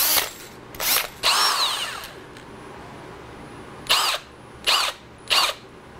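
A brushed Makita power drill spins up in several short bursts, each a loud close whine that rises and falls, with quiet pauses between triggers.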